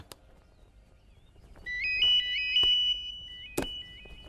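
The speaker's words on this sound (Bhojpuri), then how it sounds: "अरे हाँ, फोन बाजता।" A melodic phone ringtone plays a repeating electronic tune for a couple of seconds, with a few sharp knocks and quiet background noise around it.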